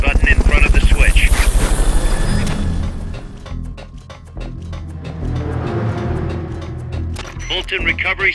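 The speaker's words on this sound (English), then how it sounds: "Fulton recovery subject confirmed onboard helicopter." A helicopter in the Metal Gear Solid Peace Walker video game beats loudly and rhythmically up close at first, then sinks under game sound effects and voices.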